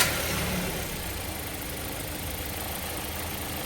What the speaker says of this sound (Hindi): हाँ अब जाइए इंजन को स्टार्ट कीजिए।